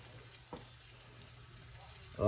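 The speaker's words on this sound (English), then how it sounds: "I'll go ahead and get the rest of these pieces of heart coated and seared off." Pieces of whitetail deer heart, coated and seared in a pan over medium-high heat, give a steady soft sizzle with a brief scrape partway through and a louder clatter at the end.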